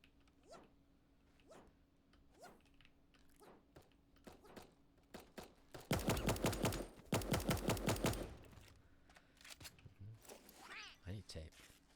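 Bursts of rapid automatic M16 rifle fire in a video game, two loud close volleys in quick succession, with scattered softer game sounds and a person talking around them.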